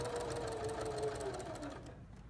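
Sewing machine stitching binding onto a quilt, a steady close whirring hum with a rising and falling tone that runs continuously for about two seconds, then stops.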